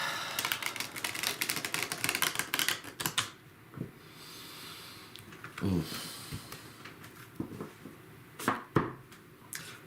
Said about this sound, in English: each morning when I do this, I listen to the riffle of the cards